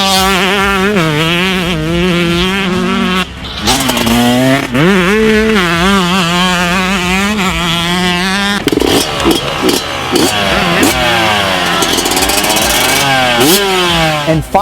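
A 2018-era 250cc two-stroke dirt bike engine screams at wide open throttle, loud and close, its pitch rising and falling through gear changes and revving continuously without a break.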